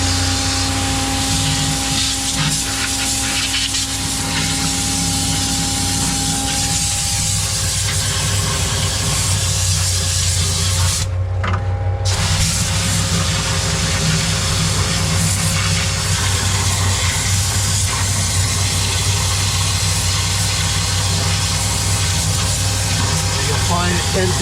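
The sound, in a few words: concrete pump being sprayed out to clean it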